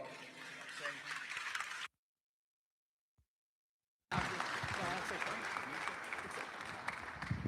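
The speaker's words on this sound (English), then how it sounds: "Let's give them a round of applause." Crowd applause at a state livestock show awards banquet, a dense room of clapping that breaks off into a couple of seconds of silence, then resumes at a similar level with voices mixed in.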